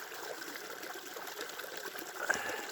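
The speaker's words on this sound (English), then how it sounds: "I'm getting the rest of that water out." A steady watery trickle and sputter of water being blown out of a HydroBlu Sidekick water filter, faint and close, with a brief sharper spurt near the end.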